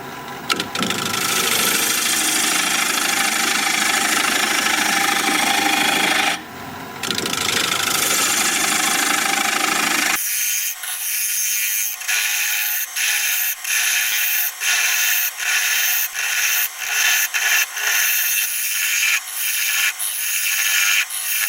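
A wood lathe spins at 780 RPM, a loud continuous broadband roar of turning and cutting that abruptly thins halfway into a higher, rhythmically pulsing whir.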